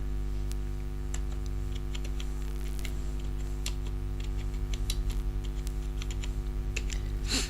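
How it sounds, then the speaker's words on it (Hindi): Steady typing on a computer keyboard while entering a narration in Tally ERP 9, with close, irregular key clicks over a constant low electrical hum and no speech. "नरेशन में कुछ टाइप कर देते हैं।"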